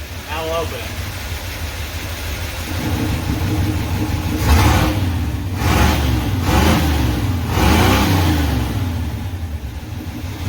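Car engine with remote-controlled exhaust cutouts open, idling and then revving in several loud, raspy bursts close by.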